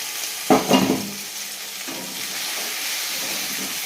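Singi catfish dropped into frying onion masala in a pan, a loud burst of sizzling and stirring at first that settles into a steady, softer hiss.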